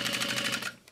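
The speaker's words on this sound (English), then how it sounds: "I'm gonna sew as close to the" A sewing machine stitches close to the zipper teeth of a backpack, giving a fast, even mechanical rattle that runs close and loud for most of a second and then stops.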